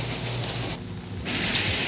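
Steady rain falls on dark Paris streets, a continuous broad hiss of drops on pavement at moderate level, briefly thinning in the middle before swelling again, with no voices.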